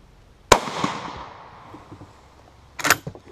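Two sharp, loud reports from an Austrian Steyr M95 infantry long rifle ring out about two seconds apart, the first followed by a long echoing decay outdoors.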